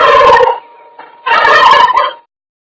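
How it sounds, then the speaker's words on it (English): A turkey gobbles twice, two loud, close rattling bursts with a short gap between, heard alone. "Brilliant. Turkey."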